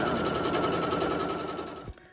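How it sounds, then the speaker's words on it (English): A sewing machine stitches a corded pillow made from curtain panels, a loud close-up rapid buzzing drone that runs continuously before stopping abruptly near the end. "I got it lined up and we are just gonna sew"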